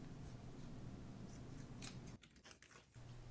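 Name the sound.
scissors trimming raffia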